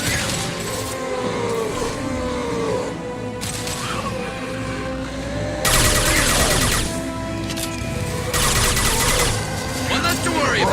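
Bursts of gunfire and crashing impacts from combat in the video game Mass Effect 2, with rapid shots layered over a steady background score while a voice talks over the action.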